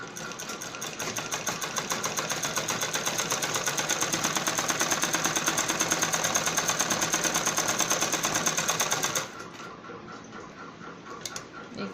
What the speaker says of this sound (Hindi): एक और पक्की सिलाई लगा लेंगे हम इसके ऊपर ऐसे ही।